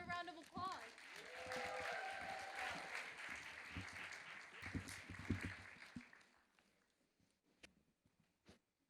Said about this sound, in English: Yes, please, another round of applause.